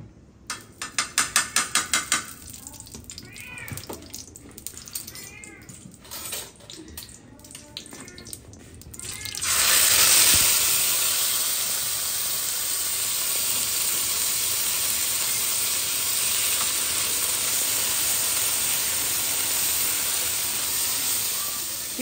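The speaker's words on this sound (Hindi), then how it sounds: "अब इसी पे हम लगाएंगे साग को तड़का" Clattering kitchen handling and a few bangs, then a sudden loud sizzle as hot tempering hits the curry, hissing steadily and slowly fading.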